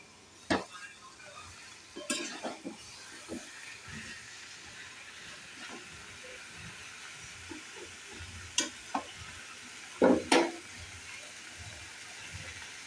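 Potatoes simmer in water in a cooking pot, giving a steady soft hiss and bubbling, broken by a few sharp clinks and scrapes of stirring.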